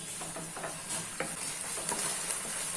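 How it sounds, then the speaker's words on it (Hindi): Ginger garlic paste is stirred into onions frying in a pan, a faint hiss of sizzling under repeated soft scraping strokes of the spoon. "अभी इसमें 2 चम्मच जिंजर गार्लिक पेस्ट ऐड कर देते हैं और मिक्स कर लेते हैं।"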